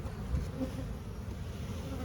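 A steady, dense hum of many honey bees buzzing together inside a hive, continuous and fairly quiet, with no talking.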